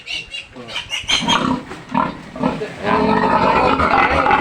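A boar pig on a Philippine farm grunts repeatedly and loudly at close range, with short rhythmic bursts that merge into a continuous low rumbling grunt.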